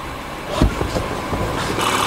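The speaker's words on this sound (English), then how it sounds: "I'm gonna rev up the engine." A 2016 Honda Pilot engine, one with a rough-running, high-idle fault, runs steadily up close. There is a brief thump and a slight swell in level, but no clear climb in revs.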